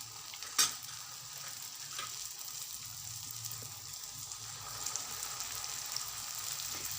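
Potato-stuffed rolls shallow-fry in oil over a low flame, giving a soft, continuous sizzle with a sharp clink or stir near the start and faint scattered crackles, quiet and without speech.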